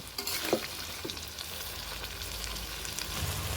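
Chickpea and potato ghugni simmering and sizzling in a pan, with a steady frying hiss and a few scraping stirs of a spoon near the start, with no voices.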